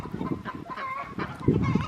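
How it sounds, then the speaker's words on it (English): Ducks kept in a paddock on a permaculture homestead, quacking and honking in several overlapping calls close by, with a louder burst near the end. "So here are our ducks"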